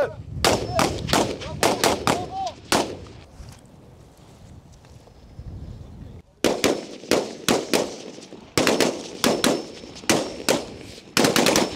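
French army small-arms gunfire in a field exercise, loud bursts of rapid shots near the listener, a short pause, then more heavy bursts and single cracks.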